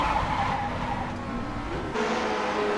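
A race car skids at Watkins Glen in the iRacing sim Grand Prix Legends, tires screeching steadily over a loud engine drone for nearly three seconds, with a brief change in tone near the end.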